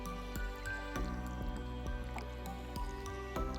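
Barbecue sauce drips and squishes down oven-baked pork ribs in close, wet, irregular taps and sticky smears, steady and quiet with no voices.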